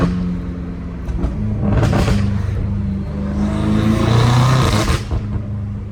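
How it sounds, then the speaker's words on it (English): A catless twin-turbo V8 BMW M5 Competition revs and drones loudly, rising in pitch through two surges with a whooshing turbo spool, close by and continuous on tight streets, no voices. "The turbo spool sounds the best, bro. Hearing the turbo spool is so satisfying."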